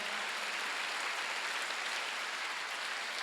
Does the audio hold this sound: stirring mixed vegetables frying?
no